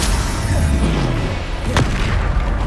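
Deep booming blasts from the Bombarda explosion spell in Hogwarts Legacy roll out loudly over dense game combat noise, with one sharp crack cutting through near the end.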